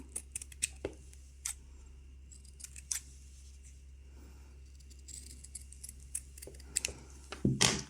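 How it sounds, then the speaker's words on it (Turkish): Scissors snip around the edges of punch-needle embroidery felt in short, sparse cuts, quiet and close against a low steady hum, with no talking. "Şöyle belli bir miktar kenarlarından kesiyorum."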